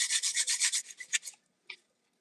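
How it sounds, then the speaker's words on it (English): Sandpaper rubbed back and forth over wood in quick, steady rasping strokes, fairly close and alone, slowing to a few last scrapes and one brief final rub. "you want to take your sandpaper and sand the wood because you want to get that smooth surface"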